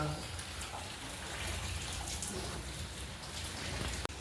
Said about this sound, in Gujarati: વરસાદ ધીમો ધીમો વરસી રહ્યો છે